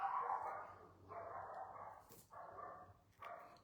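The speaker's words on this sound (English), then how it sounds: "the next door neighbor's dog is barking" The next-door neighbor's dog barks outdoors, heard through open back doors as a series of three or four fairly faint, distant barks and yips separated by brief pauses.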